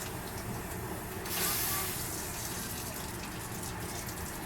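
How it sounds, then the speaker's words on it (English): Water pours from a kettle into a Very Veggie Cup Noodles cup of dehydrated vegetables, a steady rushing stream with a brief louder splash early on, heard close with a constant background hum. "Let's add some water."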